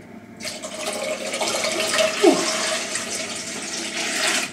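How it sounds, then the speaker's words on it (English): Water pours steadily into a pot on a stove, a continuous splashing rush close to the microphone lasting several seconds with no talk. "We're going to add in our water"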